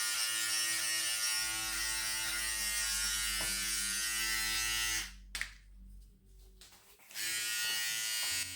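A Philips Multigroom Series 3000 MG3720 trimmer buzzes steadily and close while cutting hair. The drone cuts out briefly near the end, with some handling noise in the gap, then starts up again.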